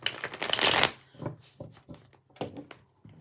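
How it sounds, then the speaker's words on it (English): A quick riffle of a tarot card deck being shuffled, followed by several soft taps and slides as the deck is squared and handled. "So let's give this a shuffle."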